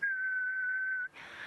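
A person whistles an imitation of the ghost bird's call: a single sustained, steady, haunting whistled note held for about a second, close and clear, followed by a brief breathy puff.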